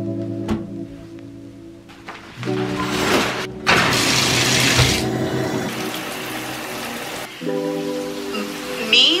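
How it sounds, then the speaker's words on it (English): Shower water runs with a steady broadband rush that swells and drops as the flow changes, backed by music throughout. "I think first I'm going to jump in the shower and wash my hair."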